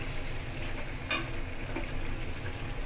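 Chopped tomatoes are being stirred into a frying fish curry with beans and potatoes, and the spoon scrapes the pan over a quiet, steady sizzle with a few sharp clinks.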